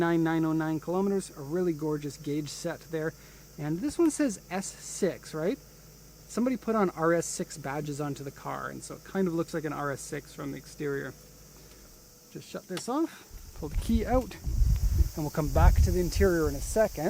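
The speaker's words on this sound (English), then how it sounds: "Sorry about the wind today." Strong, gusty wind blows outdoors on a very windy day after a typhoon, buffeting the microphone with deep, rough rumbles. Someone talks about a car throughout, and the gusts swell loudly near the end.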